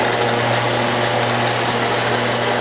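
A 2001 Saturn car with a 1.9 engine idles in a garage, a steady, loud, even hum with a low constant drone and no change in pitch, heard alone without voices.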